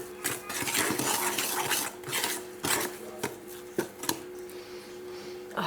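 Homemade washing powder ingredients are stirred in a bowl, with gritty scraping and rasping strokes and occasional sharp clinks of a utensil against the bowl, close and with no talking.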